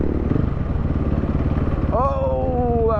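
A dirt bike motorcycle engine in the city, loud and close with a rapid pulsing idle that revs upward near the end, with voices talking over it.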